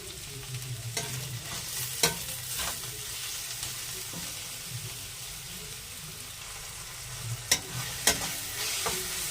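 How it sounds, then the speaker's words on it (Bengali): Chopped tomatoes with onions and salt frying in a pan for a pea and potato curry, a continuous close sizzle broken by sharp scrapes and clicks of a spoon stirring. "পেঁয়াজগুলো হালকা হালকা করে ভেজে নিয়েছি এবার এর মধ্যে দিয়ে দেবো আমি টমেটো কুচিগুলো আর পরিমাণ মতো লবণ দিয়ে দেবো"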